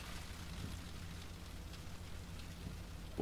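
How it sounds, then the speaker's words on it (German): Rain and hail pound down steadily during a supercell thunderstorm, a continuous faint hiss of falling precipitation heard from shelter with no voices. "Ja, Hagelschwer, ey."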